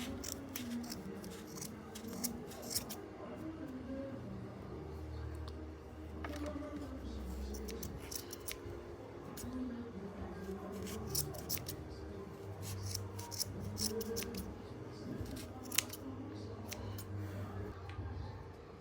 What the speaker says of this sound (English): you cut all your excess yarn just like this